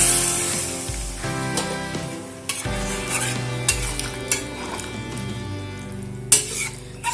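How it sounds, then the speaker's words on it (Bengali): Water goes into a jackfruit curry frying in goat fat, giving a steady close sizzle with the clatter and knocks of a utensil against the pan, without speech. "এবার আমি এর মধ্যে দিয়ে দেবো পরিমাণ মতন জল।"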